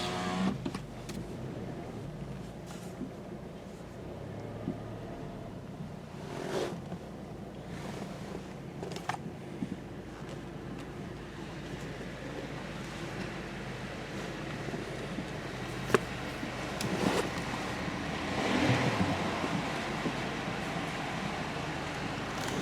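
A vehicle lift motor hums steadily while lowering beneath a 2020 VW Golf with a rattling fault, with a few faint knocks and clunks over the drone.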